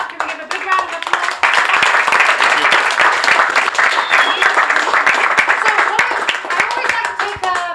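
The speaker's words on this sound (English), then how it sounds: "Can we give a big round of applause?" An audience at a social media content creation talk gives a round of applause, dense steady clapping from many hands that swells and runs for several seconds, with a voice talking over it.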